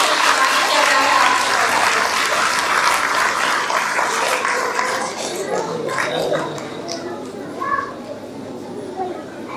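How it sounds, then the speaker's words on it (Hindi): Crowd applause at a church inauguration welcome, dense clapping from a gathered audience that swells loudly at first and then thins and fades, with voices in the background. "उनकी भी जोरदार तालियां बजा दीजिए"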